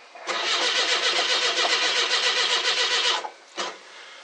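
An old car with a mechanical fuel pump and a weak starter that has a dead spot cranks on a cold start. A loud, rapid, churning whir runs about three seconds without catching, then stops, and a brief second crank follows.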